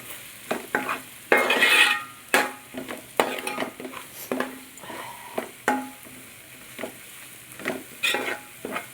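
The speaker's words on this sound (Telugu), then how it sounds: "బాగా కలుపుకోవాలి." Spices stirred into a mixture in a pan, with irregular scraping and clattering strokes of a spoon against the vessel under a faint sizzle, close and alone without talk.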